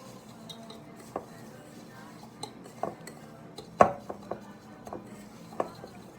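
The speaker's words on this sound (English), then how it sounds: "Really want to mix this hard to kind of get this seed butter really distributed between the coconut oil and the coconut sugar." A utensil knocks and scrapes in a bowl while seed butter, coconut oil and coconut sugar are mixed, giving quiet, irregular taps and clinks with one sharper clack midway.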